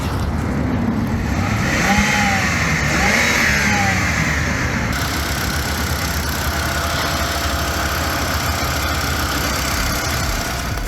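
A junkyard BMW engine with 393,000 km and a manual transmission running close by, a loud, rough, steady idle with a couple of light revs early on and an uneven knocking undertone throughout.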